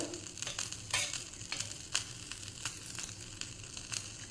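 Hot oil in a tempering ladle crackles and sizzles steadily, with sharp pops and spits scattered through it, close and fairly quiet.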